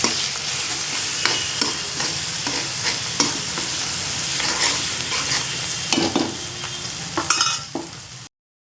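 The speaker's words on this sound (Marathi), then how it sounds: "आणि आता त्यात पत्ताकोबी टाकून घ्यायची आहे" Shredded cabbage stir-fried in a pan, a steady broadband sizzle with repeated scraping and stirring clinks of a spatula against the pan, close and fairly loud, no talking.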